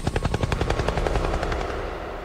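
A helicopter sound effect in a funk track: rapid, loud rotor chops pulse rhythmically and fade slightly toward the end.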